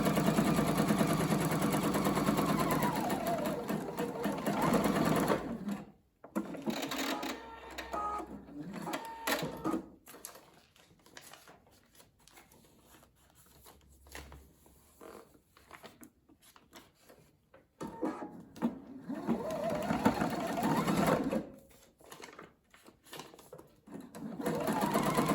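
Sewing machine stitching paper-pieced patchwork, loud rapid mechanical stitching bursts with a pause near six seconds, quieter intermittent stitching in the middle, then a strong sustained run again toward the end.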